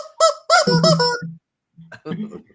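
A rubber chicken squeezed in a few quick bursts, letting out loud, honking squawks close by, a cluster of squeals followed by a pause and a shorter final squeak.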